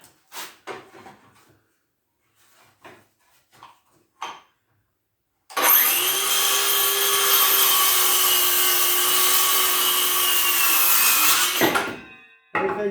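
A power saw cuts through a wooden board while building work area storage; a few handling knocks come first, then a loud, steady whining cut of about six seconds that stops abruptly.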